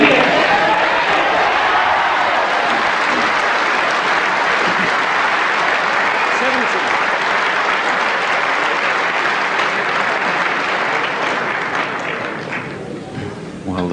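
A packed stadium crowd roars after a goal at the 1994 World Cup final, a dense, loud wash of cheering and applause that holds steady, then eases near the end while a commentator talks over it.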